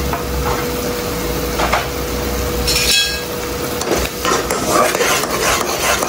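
Spice powders (coriander, turmeric, Kashmiri red chilli and Agri masala) are stirred together in a pan for a Marathi dried-pea curry, giving a loud continuous scraping and soft sizzle with a few sharper utensil clicks.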